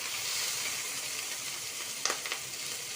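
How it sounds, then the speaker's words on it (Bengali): Noodles hit a hot pan with eggs and sizzle steadily, a dense close hiss with a few sharp crackling pops near the end, no talking. "এখন আমি নুডলস ঢেলে নেব"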